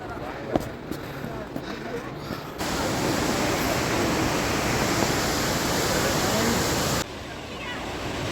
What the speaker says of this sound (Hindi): तो ये है झरना, और ये झरना बिल्कुल नीचे तक जा रहा है